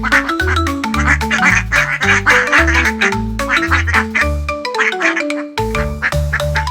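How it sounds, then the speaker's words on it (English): A cartoon-style duck quacks repeatedly over a bouncy, loud children's music track, the quacks falling in quick rhythmic bursts throughout. "Quack, quack, the duck."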